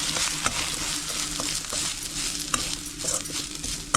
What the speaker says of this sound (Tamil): இப்போ இந்த நெய்யிலேயே முக்கால் கப்பு தேங்காய் துருவி வச்சுருக்குறோம் இதை சேர்த்து வதக்கி எடுத்துடலாம்